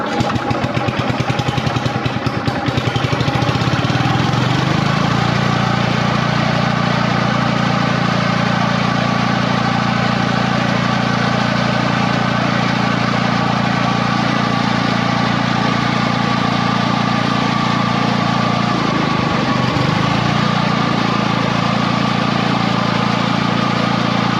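A Hayter Osprey rough mower, a barn find, runs steadily with its throttle open, a loud continuous engine drone throughout after a brief rougher start.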